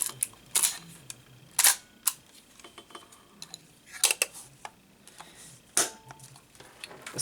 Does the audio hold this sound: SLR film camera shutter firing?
yes